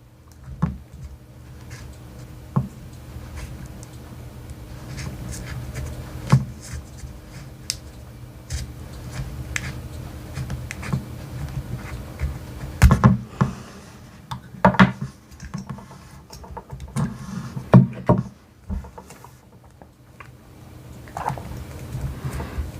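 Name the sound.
tape unwound and a piece cut off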